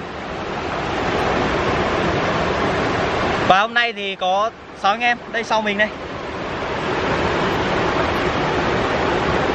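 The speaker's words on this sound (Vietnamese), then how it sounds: "Nay mình lại có mặt tại suối." Steady broadband rush of a stream's flowing water outdoors, loud and continuous throughout, with someone briefly talking over it in the middle.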